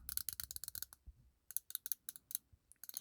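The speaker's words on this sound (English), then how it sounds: "The clicking, the bezel sounds pretty interesting." The bezel of a Seiko Prospex SNE541 Solar Tuna watch ratchets as it is turned, two quick runs of crisp, close metallic clicks separated by a brief pause.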